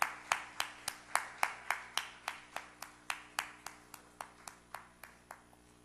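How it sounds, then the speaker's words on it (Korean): A church youth congregation claps together in a steady, even rhythm of sharp, evenly spaced claps, moderately close, with no talking over it. "우리 박수로 환영하고 축복하겠습니다."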